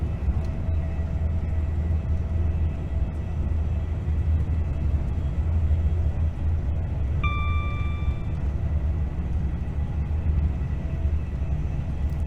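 A Class 390 electric train runs in Train Sim, giving a steady low rumble and rolling drone with a brief tonal whine partway through and no voices.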